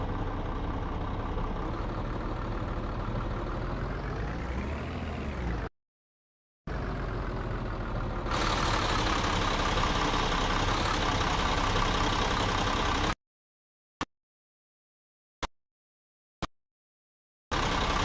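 Idling bus engine in the mobile driving game Bus Simulator Pro Urban Rivals: a continuous rumble that briefly rises in pitch, cuts out, returns louder, then stops, followed by several short clicks amid silence.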